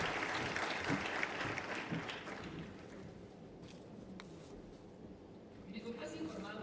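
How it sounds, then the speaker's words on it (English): Clapping from a conference crowd at an opening session, loud at first then thinning out and fading as the applause dies down. "let's welcome both of them with a round of applause"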